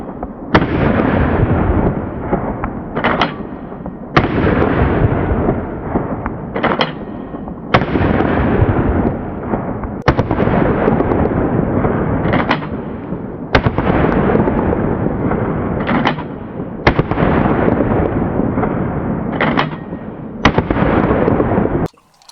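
Around ten loud, sharp shotgun blasts from an Axor Arms Bushpig 2.0 magazine-fed shotgun, spaced a couple of seconds apart, each booming report with a long rumbling tail outdoors.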